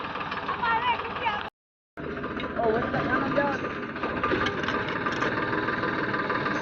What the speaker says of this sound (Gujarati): અહીંયા લે છાણિયું ખાતર આવી રીતે ઉડાડે ટ્રેક્ટરથી।